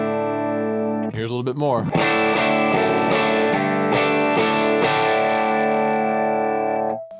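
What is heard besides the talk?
electric guitar picked gently through effects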